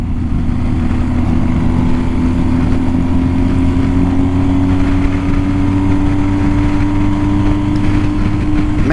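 A motorcycle engine, likely from a Blue Knights of New Jersey Motorcycle Club rider's bike, drones loud and steady through the whole stretch with a rising, sustained whine and no talking.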